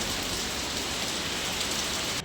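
Steady rain pours down during a stormy spell, a dense, even hiss of drops on surfaces that stays constant throughout and cuts off abruptly at the end.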